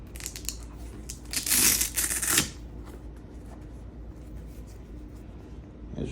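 Strap being unfastened on an Air Jordan 1 High sneaker, a burst of crackly, rustling friction near the middle with softer handling noises around it, close and fairly quiet.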